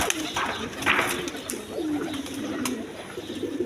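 Pigeons at a breeder's loft of high-flying Giribaz birds coo repeatedly in low, rolling calls, several overlapping birds close by against a busy background of chirps and clatter.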